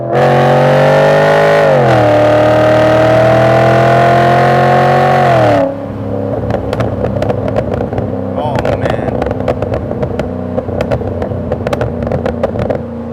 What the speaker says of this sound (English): For good measure, second gear pull.